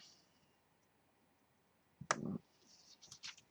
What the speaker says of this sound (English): And I'm going to stamp at the top there now, just stamp something in there